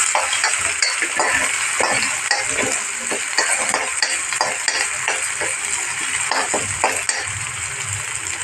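Ginger, garlic and green chili paste sizzling in hot oil in a pan, with steady crackling frying and repeated stirring scrapes of a spoon, close and continuous with no talk.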